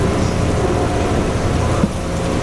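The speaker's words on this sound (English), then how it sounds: "The approaching storm may seem violent and destructive to us, but to nature, it's a new beginning in the cycle of life." A thunderstorm sound effect plays on Disney World's EPCOT Living with the Land boat ride, loud steady rain-like hiss with a low rumble throughout.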